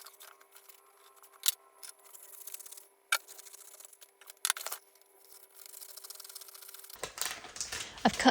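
Vinyl wrap film cut to size for a kitchen makeover, heard as a series of crisp scissor snips and rustling sheet handling, close and sporadic, ending in a louder crinkling rustle.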